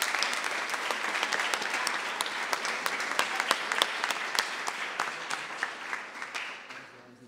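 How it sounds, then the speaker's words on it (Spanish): A crowd applauds steadily at a student presentation, many hands clapping close together before fading out toward the end. "un fuerte aplauso para los chicos que lo hicieron espectacular"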